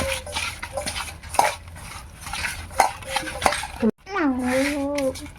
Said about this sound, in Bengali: দিয়ে দিচ্ছি হলুদ লবণ লঙ্কার গুঁড়ো ভালো করে মাখিয়ে নেব